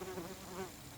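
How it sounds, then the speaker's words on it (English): A bee buzzes outdoors on Orcas Island, Washington, a faint, close droning hum that wavers slightly in pitch over about a second, with no voices. "okay, little bee"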